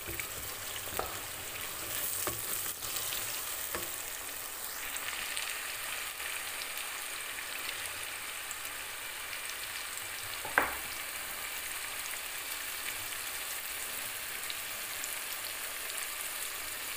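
Spice paste with ginger and garlic frying and being stirred in a pan, a steady close hiss and sizzle with occasional scraping taps and one sharper knock.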